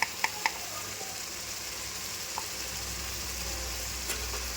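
Ginger, garlic and coriander fry in hot oil with a steady, even sizzle, broken early by a few sharp clicks and a faint clink later on; no one speaks.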